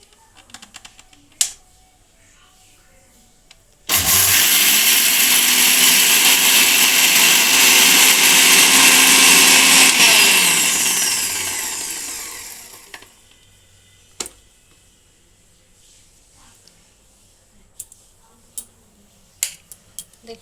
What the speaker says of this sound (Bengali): এটা আমি এবার মিক্সারে গুঁড়ো করে নেব।